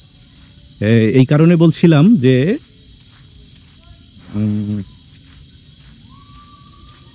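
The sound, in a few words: crickets chirping in Sentosa jungle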